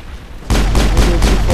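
A grenade goes off in Mass Effect: a sudden loud blast cuts in after near silence, followed by a rumbling roar with repeated heavy thuds.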